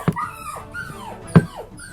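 A dog whimpers and yelps in short high whines, two sharp yips among drawn-out falling whimpers, close and alone without talk.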